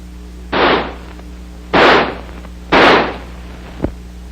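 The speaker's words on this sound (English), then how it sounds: "By closing the bolt and turning the selector lever to semi, the rifle will fire semi-automatically." An M16 rifle fires semi-automatically: three loud, separate shots about a second apart, each a sharp blast with a short echoing tail, and a faint click follows near the end.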